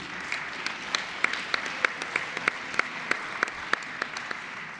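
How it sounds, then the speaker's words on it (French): Audience at a CESE assembly session applauds steadily, an even wash of many hands clapping with a few sharper individual claps standing out, no talking over it. "je crois qu'on peut l'applaudir"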